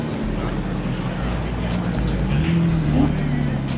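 A McLaren 600LT sports car passes on a road among other traffic, its engine a broad, throaty roar that swells and falls as it goes by, under steady road noise and other engine sounds.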